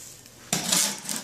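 Mapei mortar mud for a shower pan pre-slope is mixed at a 4-to-1 ratio, with a quiet start and then a sudden scraping, gritty clatter of the mixer through the wet mud.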